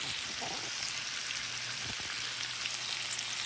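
Salmon frying in butter in a pan, a steady close sizzle and spatter running continuously under a faint low hum, with no talk.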